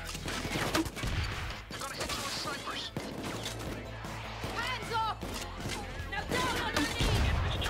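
Gunfire from a Payday 2 bank heist, with a medic shooting through a wall: scattered shots and clattering impacts under ongoing game noise and overlapping voices.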